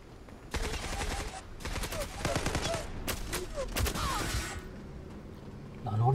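Rapid automatic gunfire bursts in the online shooter game Zula, loud rattling volleys in several runs separated by short pauses, with a player's voice talking over them.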